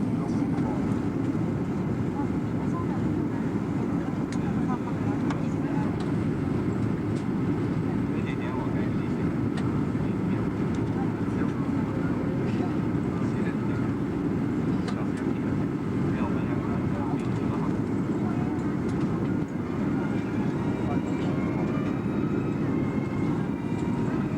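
Steady low engine drone fills an airliner cabin descending toward Vientiane Airport in Laos, a constant broadband roar with no breaks, heard close and continuous.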